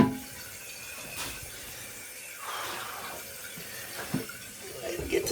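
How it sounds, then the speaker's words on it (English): Water flowing back into a toilet bowl as the tank refills at a lodge water system, a soft continuous trickle and gurgle with a few clunks, and a person speaking faintly over it. "Water starting to flow back into the bowl."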